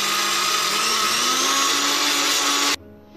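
An electric grinder whirs steadily as it grinds soaked moong dal into a fine paste, a loud, continuous motor drone that cuts off abruptly near the end, leaving quiet.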